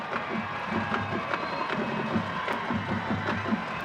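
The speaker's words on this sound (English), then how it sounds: "Crowd getting into it." A high school football stadium crowd cheers during a bi-district championship game, a steady broad roar of many voices with scattered shouts rising and falling, heard at moderate distance with no clear speech over it.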